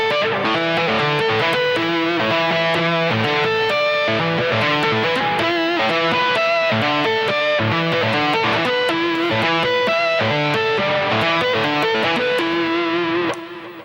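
Tapping harmonics lick on a distorted electric guitar at full speed, a dense, rapid flurry of ringing bell-like harmonic notes running continuously and loudly throughout.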